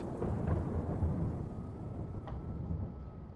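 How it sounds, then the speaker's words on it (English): Steady rain with low rumbling thunder outdoors in a wooded area at night, a continuous dense wash of noise with deep rolling undertones and no pauses. "The rain and thunder started to feel comforting"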